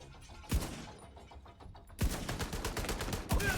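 Gunfire in The Division 2: a single loud shot, then a second shot that opens into a dense run of rapid shots, and a final sharp report near the end.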